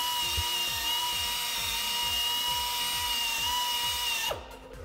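A Central Pneumatic 3-inch air polisher/sander runs steadily on an aluminum casing, giving a continuous high whine with a rhythmic low chatter, then spins down and stops near the end.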